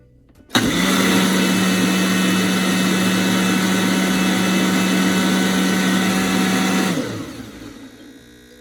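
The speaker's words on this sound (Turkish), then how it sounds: "Şimdi ben bunu blenderda çekiyorum." A blender grinding coffee starts abruptly and runs at a loud, steady whir for about six seconds, then winds down.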